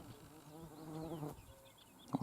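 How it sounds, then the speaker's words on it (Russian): A gadfly buzzing faintly in flight outdoors in a green Russian village in summer, a thin steady drone through the first part with a soft chirp near the end. "Овод немножко летает."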